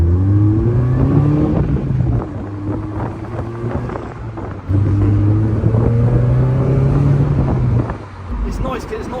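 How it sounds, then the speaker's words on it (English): Deep, steady engine exhaust drone from a Mazda MX-5 with a newly installed aftermarket exhaust on the move, rising and falling with the revs, with strong wind buffeting the microphone. "it is the perfect time to get a real sound of the exhaust"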